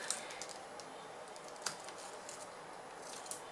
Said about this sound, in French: je découpe un morceau plus petit